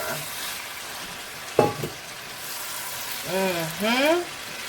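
Ground beef curry with tomatoes sizzling and frying in a pan, a steady crackle with a brief clatter of stirring and a few voices in the background.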